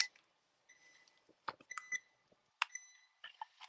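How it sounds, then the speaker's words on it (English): A kitchen appliance emits a series of faint, sharp electronic beeps in irregular clusters, separated by near-silent gaps, with a few soft clicks and knocks of kitchen activity in between. "stop beeping. We hear you. Such an attention getter."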